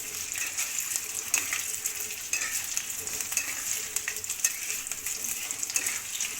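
Local chicken pieces and cut potatoes fry in a pan with a constant close sizzle and crackle, broken by occasional scraping sounds of stirring.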